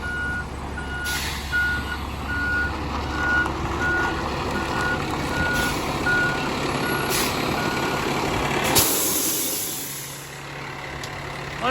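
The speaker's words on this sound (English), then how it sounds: "That's the big conveyor truck." A big concrete conveyor truck reverses, its backup alarm beeping steadily over a loud diesel idle, then a sharp hiss of air brakes releases near the end.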